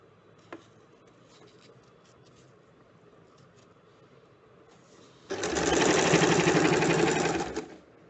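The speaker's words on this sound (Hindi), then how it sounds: "इस तरह से पूरे इलास्टिक को बिठाते हुए सिलते जाएंगे।" After a quiet stretch with faint ticks, a home sewing machine stitches elastic onto a fabric strip in one steady, rapid run of about two and a half seconds, then stops.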